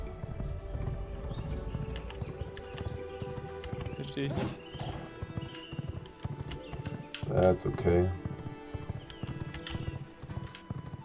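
Horse hooves clip-clop in the V Rising video game, a steady walking patter mixed into game music and effects, with a brief whinny-like burst in the middle and people talking over it.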